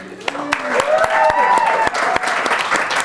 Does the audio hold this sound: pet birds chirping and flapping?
no